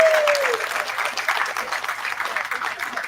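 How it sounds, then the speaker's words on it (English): An evening gathering's audience breaks into sustained applause, a dense, even wash of clapping that continues for a few seconds, with a voice briefly heard at the start. "So just a big round of applause for"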